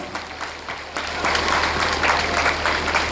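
Students applaud the teachers at a Christ School Poonch Teachers Day event, a crowd's clapping that starts modestly and swells into fuller, steadier applause after the first second.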